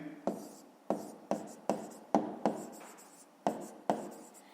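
Someone writes out a math exercise solution by hand, making about nine sharp, separate strokes in an uneven rhythm, close and distinct against a quiet background.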